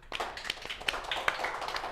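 A small group claps hands at a studio music show, a brief, uneven patter of close claps with a few sharper smacks and no speech.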